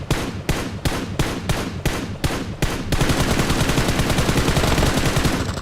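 An M416 assault rifle fires in the PUBG Mobile video game: about eight sharp, evenly spaced single shots, then a rapid sustained automatic burst, loud and close, with no talking.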